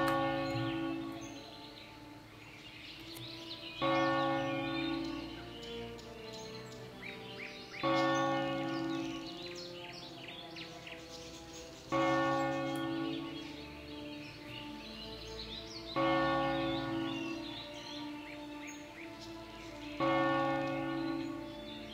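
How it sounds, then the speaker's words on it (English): A church bell tolls in the World of Warcraft video game, sounding loud, full and ringing, with five slow, evenly spaced strikes whose overlapping tones hang and decay between hits. Faint birdsong sits underneath. "I was letting the bell toll during that moment"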